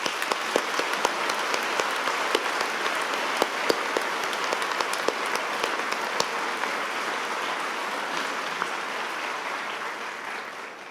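A large audience applauds at a University of South Wales graduation ceremony in Treforest, with a sustained wash of clapping and some sharper individual claps near the front, tapering off slightly at the end.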